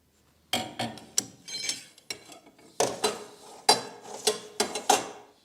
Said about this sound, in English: I'm always using a breaker bar on the wheel hub to hold the wheel hub basically while I'm trying to release these bolts